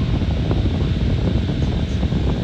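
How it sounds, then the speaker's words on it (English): An electric household fan with vents on the sides, back and front runs steadily, a broadband rush of blowing air heard up close at a constant level throughout, with no voices. "I've now plugged it into the power. Seems to be doing a really good job. Hopefully y'all can hear the wind stream."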